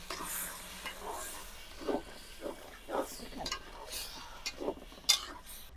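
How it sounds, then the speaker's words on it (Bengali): Beef being stirred with spices and a little water in a pot over a clay stove, soft scraping strokes and a faint sizzle recurring about once a second, fairly quiet and close. "দিয়ে ভালো করে কষাই নিব"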